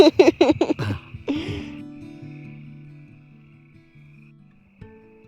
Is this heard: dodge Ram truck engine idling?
no